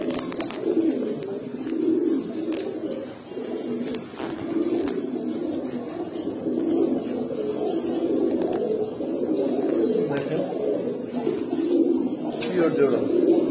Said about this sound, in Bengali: লাল পাত্তি কবুতর